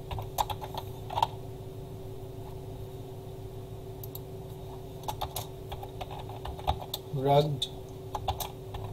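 HTML code is typed on a computer keyboard in quick, light clusters of clicks with short pauses, while a voice talks quietly over the typing.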